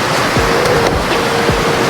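Steady broadband rush of falling water at Margaret Falls, a forest waterfall in British Columbia, loud and continuous with no talk over it.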